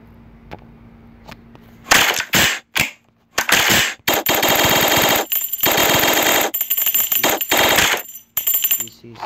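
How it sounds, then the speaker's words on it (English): A Weaphones electronic pistol toy gives synthetic gunshot effects: a few single shots, then loud bursts of rapid automatic fire separated by short gaps. "This is a pistol, semi-automatic and full automatic."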